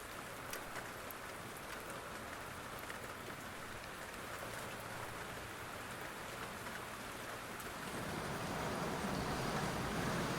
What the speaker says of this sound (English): Too much rain.